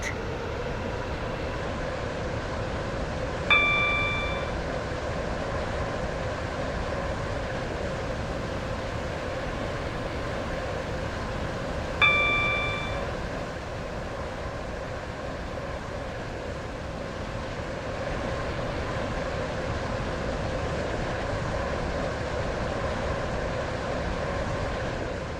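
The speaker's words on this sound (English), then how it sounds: "Welcome on board this Stepford Connect service to Leighton City." Steady rumble of a Class 707 electric train running on the Stepford County Railway game line, with two brief chime-like tones along the way and no speech.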